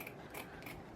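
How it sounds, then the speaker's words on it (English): Scissors trim the corners of a patriotic Fourth of July top hat floral arrangement, giving two or three quick, crisp snips close by in a quiet room. "Here I feel like it's a little big, so I'm just going to trim that off a little bit."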